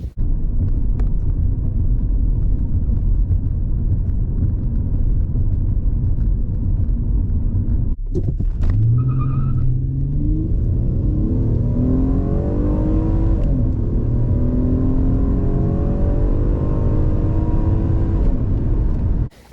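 Car engine idling with a steady low rumble, then a sharp break and a rising rev as it pulls away and drives down the road; quiet, continuous engine and road noise, stock air intake, no talking.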